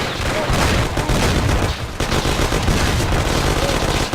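A dense, loud shootout in a parking lot in the Mafia video game, with overlapping gunshots and bursts of automatic fire sounding continuously for four seconds.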